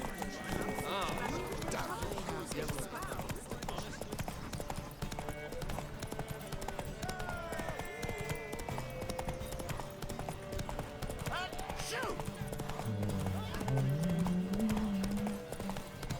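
A horse gallops in The Witcher 3 video game during a race, with a rapid, rhythmic clip-clop of hooves and a whinny near the end, while people talk over it.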